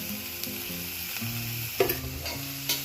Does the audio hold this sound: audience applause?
no